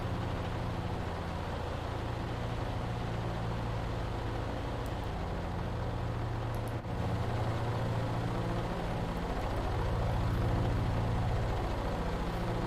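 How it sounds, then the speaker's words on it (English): Engine drone of a P-38 Lightning aircraft in a VR flight simulator game, a steady, even hum that holds throughout with only a brief dip partway through and no talking. "They really make the engine noise nice"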